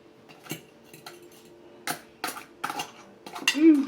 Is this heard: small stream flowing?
no